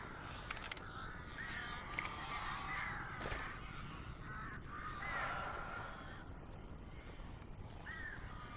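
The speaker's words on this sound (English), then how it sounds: "These birds are weird." Crows caw in Alan Wake, a video game, letting out several harsh, scattered calls at moderate distance against a low background hum, with no one talking.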